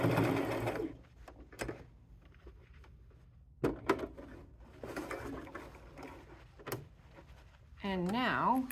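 Sewing machine stitching along the angled edge of a vest pocket, with short bursts of whirring stitching near the start, in the middle and at the end, separated by quieter gaps and some clicks.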